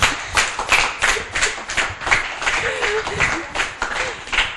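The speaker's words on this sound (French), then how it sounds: "On applaudit Mehdi." Children's book-reading show audience clapping for a young boy, a lively patter of hands rising and falling in uneven bursts throughout, with a voice speaking over the applause.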